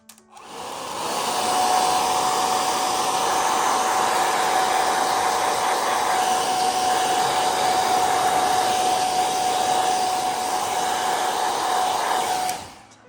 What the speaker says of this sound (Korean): 드라이기. 소리 시끄러우니까 조금 놀라지 마세요.